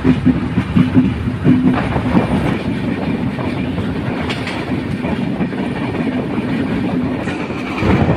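The Madhumati Express, an LHB-coach train, rolls along with a loud, steady rumble and rhythmic clickety-clack of wheels over rail joints, heard from on board with no voices.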